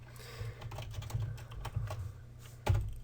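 Quick, uneven keystrokes on a computer keyboard as a folder name is typed at a desk, a steady run of close clicks ending in one firmer key press, no talking.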